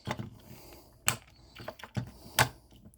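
Plastic parts of a Transformers Legacy toy figure are folded into place: a series of small, close clicks and snaps, with two sharper ratcheting clacks standing out among soft handling noises.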